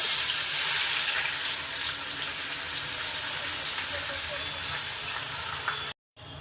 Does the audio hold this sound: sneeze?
no